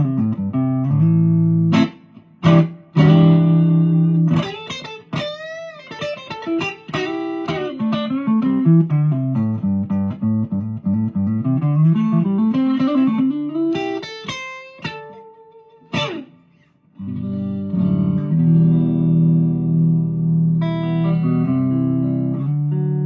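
An EKO Telecaster-style electric guitar played loudly, ringing single notes and bends in a sliding melodic run, then strummed chords that sustain up close, with no voice over it.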